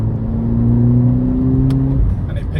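A Volkswagen Polo GTI engine pulls hard under acceleration, a steady, rising drone that climbs in pitch and then drops with a gear change, heard from inside the car.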